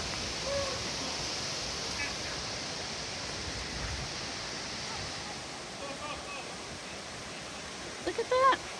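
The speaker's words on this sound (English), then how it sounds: "And there's another waterfall over here." Waterfall in Monongahela National Forest, heard as a steady, broadband rush of falling water that continues throughout, with faint bird calls and a brief soft knock near the end.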